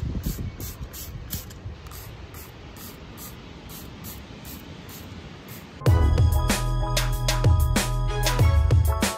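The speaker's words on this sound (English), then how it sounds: "I'm gonna go ahead and spray this down with some Goo Gone to get all that goo off" Goo Gone adhesive remover is sprayed on a car part during a double DIN radio install in a Honda CG6, a steady hiss that turns into a louder, busier burst of spraying and rattling near the end.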